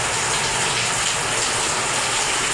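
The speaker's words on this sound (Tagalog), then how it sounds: "Tumatagas yung sa bubong." During a typhoon, rainwater pours through a leaking roof as a loud, constant rushing gush of water close by, with no pauses and no voices over it.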